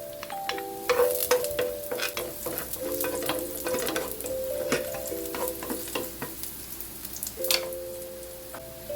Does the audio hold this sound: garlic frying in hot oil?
yes